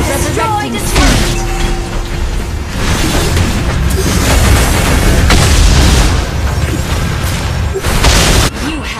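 A turret being destroyed in the Mobile Legends game, Gatotkaca tank build, heard as dense, loud booms and explosive bursts filling the whole stretch, with game effects and brief voice lines mixed in.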